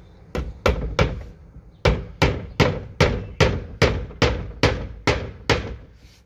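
A hammer driving exterior nails into a wooden fence during a repair, about a dozen solid, evenly spaced thuds, close and loud with no voices.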